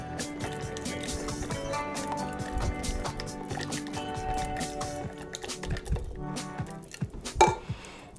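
Caesar dressing being whisked together in a bowl, a steady wet sloshing and stirring with soft liquid squishes and drips running throughout, close and fairly quiet.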